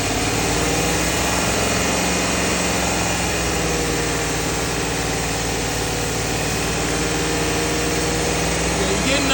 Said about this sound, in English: revving the motor up now.